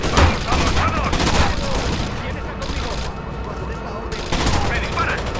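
Loud, dense gunfire crackles in the Rainbow Six Vegas video game, a steady fusillade of shots from several weapons lasting throughout, with no talking.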